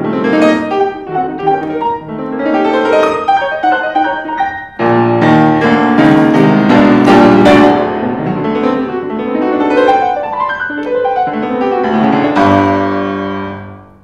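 A piano plays the exuberant theme of Martucci's Tarantella Op. 44 No. 6, with fast upward runs, short punchy motifs and a loud accented entry midway, full and busy throughout, solo with no talking.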